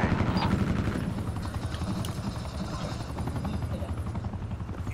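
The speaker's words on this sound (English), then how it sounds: "No, I got an attack chopper." An attack helicopter in a first-person shooter game, its rotor thudding loud and continuous throughout, with faint gunfire bursts mixed in.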